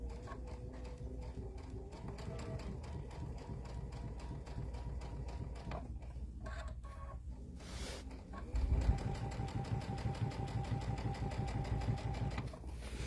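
A sewing machine stitches a chenille Christmas pillow, its needle running in a fast, steady mechanical chatter that gets louder and busier in the second half, close by with no speech.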